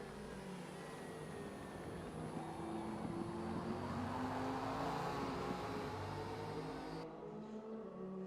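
A hypercar in a Le Mans endurance racing video game drives past, its engine a steady, dense drone that swells slightly mid-way and then eases off, with no voices over it.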